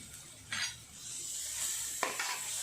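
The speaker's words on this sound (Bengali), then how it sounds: "এবার কচুটা দিয়ে দেব" Taro goes into a pan of fried masala and is stirred with a metal utensil, giving soft sizzling under two or three distinct scraping strokes against the pan, heard close.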